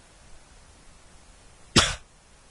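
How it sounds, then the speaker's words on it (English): A single sharp cough bursts out once near the end, close and fairly loud against quiet background hiss. "I can't stop coughing right now."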